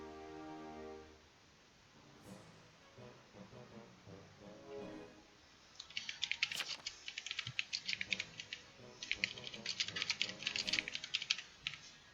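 Rapid clicking of computer keyboard keys, typed during an online social deduction game, starting in short bursts and then running as dense, steady typing in the second half with faint background sounds.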